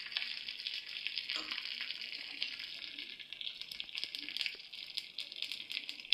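Curry leaves and a pinch of asafoetida spit and crackle in hot oil for a tempering on Bengali chutney, a dense continuous sizzle with scattered pops, close and steady throughout.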